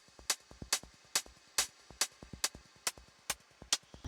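Tip-Top Audio Hats 909 Eurorack module firing a closed hi-hat with a very short decay, ten crisp snappy ticks in a steady rhythm, close and clear with no talking, faint low clicks between hits.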